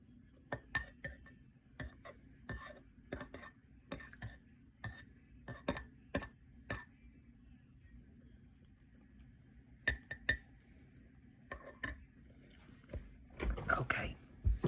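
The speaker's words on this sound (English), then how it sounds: "Let me get below here. And let me stir that in." A spoon clinking against a cup while sugar or honey is stirred into a drink, with sharp, evenly spaced taps close by, a pause, more taps, then a busier clatter near the end. Soft speech is heard alongside.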